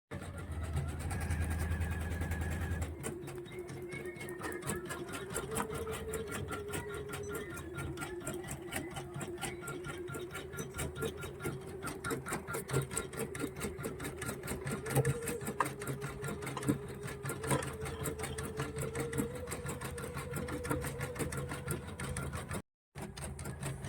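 An embroidery sewing machine with a frame starts up and stitches at a rapid, steady, mechanical rhythm, running loud and continuous until a brief stop near the end.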